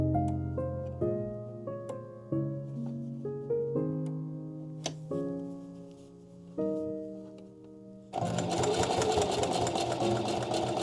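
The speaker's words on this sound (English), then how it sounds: "I feel a lot more confident dealing with the sewing machine now." Toward the end, a sewing machine stitching homemade winter dog booties starts up with a loud, fast, steady mechanical whirr, following several seconds of sustained tonal notes.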